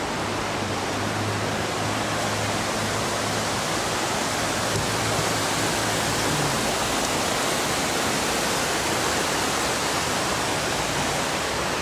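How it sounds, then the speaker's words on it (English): Jungle-like stream running through the middle of Medellín, a dense, continuous rush of flowing water heard close and loud without pause. "It's like a jungle stream in the middle of the city."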